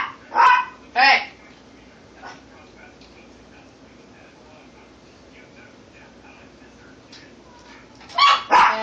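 Dogs bark in sharp paired bursts near the start and again at the end, loud and close, with a quieter stretch and a faint yip between them; no speech over the barks.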